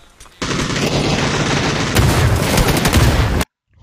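Rapid automatic gunfire in a first-person shooter video game, a dense continuous burst of shots lasting about three seconds, growing heavier toward the end before cutting off abruptly.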